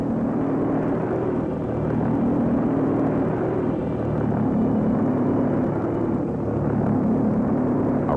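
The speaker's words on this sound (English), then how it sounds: "The intermittent combustion of the fuel gave the V-1 a telltale sound." The pulse jet engine of a V-1 flying bomb gives a loud, continuous, buzzing drone that holds steady throughout with no other sounds.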